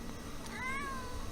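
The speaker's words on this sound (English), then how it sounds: "There's a kitty over there." A single faint, short cat meow rising and falling, heard at a distance over a steady low background hum, with no talking.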